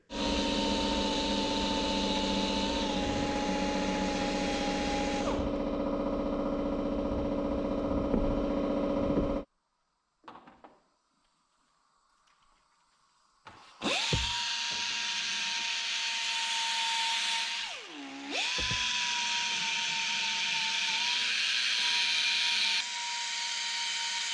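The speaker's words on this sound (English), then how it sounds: "we went through all those grits of Rolock discs all the way from, we started at 36" A power tool spins Roloc abrasive discs against metal in a loud, steady whine, starting at 36 grit. It runs for several seconds, cuts out into near silence, then spins up again and grinds on.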